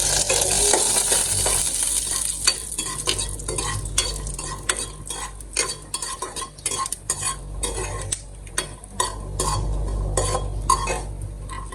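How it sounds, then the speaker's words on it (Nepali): Peanuts fry in hot oil in a pan while a spoon stirs and scrapes steadily, a continuous sizzle with clattering metal strokes up close and no talking. "अब हामी चाहिँ यसमा मुङफली के भन्छ बदाम होइन, बदाम पिनट्सलाई फ्राई गरिदिन्छौँ है त।"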